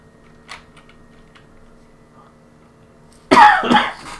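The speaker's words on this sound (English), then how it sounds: "Sorry about this cough." A short, loud burst of coughing near the end, following a quiet stretch with a few faint clicks.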